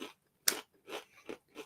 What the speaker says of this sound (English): I like how crunchy they are.